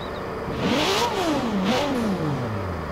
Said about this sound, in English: Still not quite sure about the sound of the engine